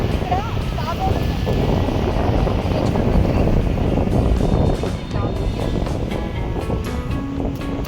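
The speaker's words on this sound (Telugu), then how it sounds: "ఇక్కడ చూడండి ఇది సముద్రం" Sea waves break on a Bay of Bengal beach near the Penna river mouth at Nellore, a continuous loud wash of surf mixed with wind buffeting the microphone.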